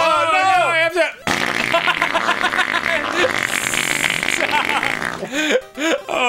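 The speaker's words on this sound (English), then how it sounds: "That's the fart noise I haven't heard like since childhood" Loud, wobbling fart noises from a giant Goomba in a Mario video game burst out over excited voices, with pitched game sound effects before and after.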